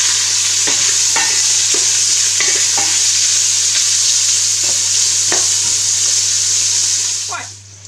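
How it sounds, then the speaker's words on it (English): Chopped onion sizzles steadily in a pot for sweet-and-sour red cabbage while a spoon scrapes and stirs it in several irregular strokes, heard close up before the frying noise fades out. "And I pop that in here as well. And let the onion brown a little bit"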